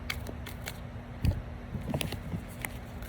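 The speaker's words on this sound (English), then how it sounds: "All right, Marion, let me go ahead and shuffle these really quickly." Tarot cards being shuffled by hand in a quiet room, a few soft riffling and tapping bursts spread across the moment, faint and close.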